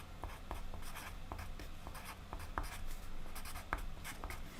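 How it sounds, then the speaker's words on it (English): A lead pencil draws geometric shapes on paper, with a steady scratching broken by short, sharp taps and strokes, close and clear with no talk. "work down a preliminary drawing and then go over it in lead pencil."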